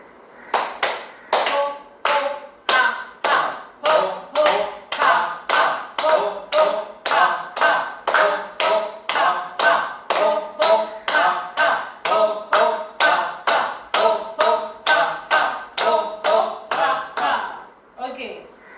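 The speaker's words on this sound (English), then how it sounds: "Okay, now clapping." A group claps hands in a steady, even rhythm during a laughter yoga session, with over thirty sharp, loud claps and a voice talking underneath.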